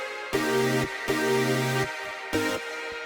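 Future bass synth chords of layered saw waves with a distorted square wave voice on top, three bright sustained stabs in an uneven rhythm, loud and alone.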